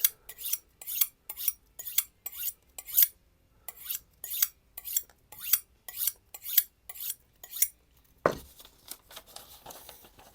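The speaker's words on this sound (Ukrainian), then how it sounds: "Давайте ще раз доточимо трошки." A kitchen knife drawn repeatedly along a honing steel, giving a quick series of bright metallic swipes in a regular rhythm, close and clear, then a single heavier knock before the strokes stop.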